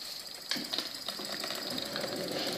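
A small oscillating steam engine runs with a rapid, even mechanical clatter and a hissing edge, steady and fairly quiet at close range, with no voices.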